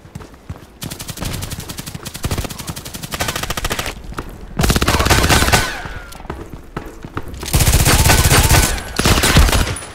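Kedr SMG firing in the shooter game Contract Wars: loud, close, rapid automatic bursts in long strings, broken by short pauses.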